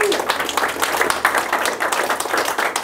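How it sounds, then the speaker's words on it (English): A crowd claps steadily in dense, continuous applause, close and fairly loud, with a voice faintly underneath. "So a round of applause for Angelo."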